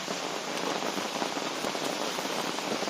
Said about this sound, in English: it's not heavy rain